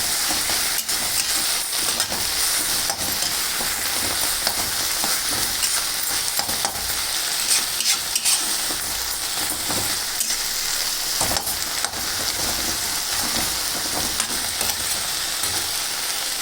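Moringa drumstick leaves frying in a pan, a steady, close sizzle and hiss with scraping stir sounds running throughout, no voices.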